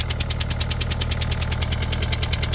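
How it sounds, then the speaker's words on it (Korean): A Hyundai Santa Fe R engine idles with a leaking injector and compression escaping at cylinder two, giving a loud, close, rapid rhythmic ticking and knocking over a steady mechanical hum. "시동 걸었고요. 2번에서 많이 세고 있습니다."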